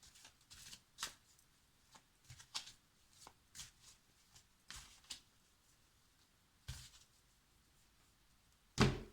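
A tarot deck is shuffled and cut by hand in quiet, irregular bursts of riffling and soft card slaps, ending with a firmer thump.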